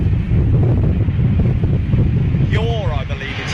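Strong wind buffets an outdoor microphone at a big-jet aircraft spotting location, a steady loud rumbling roar throughout, with a brief tonal whine rising near the end.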